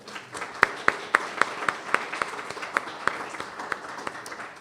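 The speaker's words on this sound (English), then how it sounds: "maybe we can give him another round of applause" A book-launch audience gives a round of applause, a light patter of clapping with several sharp, evenly spaced claps standing out near the microphone, steady for several seconds.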